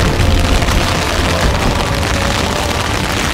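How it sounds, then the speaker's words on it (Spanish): Heavy rain from a thunderstorm in the Pyrenees drums hard and continuously on a tent, a loud, dense roar with deep rumbling underneath and no voices. "Lleva como 15-20 minutos a reventar, a llover fuerte."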